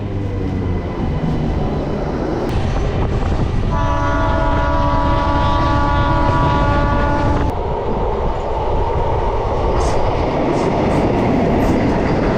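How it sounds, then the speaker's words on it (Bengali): A Jaleswar MEMU local train arrives at a station: a loud, constant rumble of rolling carriages, with a long sustained horn blast of about four seconds in the middle. "six eight zero zero seven Jaleshwar MEMU ঢুকছে"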